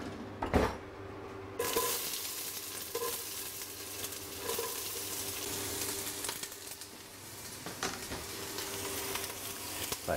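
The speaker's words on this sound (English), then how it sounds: "you want to cook it until it's reasonably translucent" Onion frying in a hot pan for a seafood chowder, with a steady soft sizzle, occasional scrapes and stirs of a spatula, and a clatter near the start.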